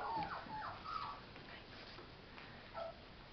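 Collie puppies about three and a half weeks old whimper and squeak in a few high, thin cries, close and fairly soft over a steady background hiss.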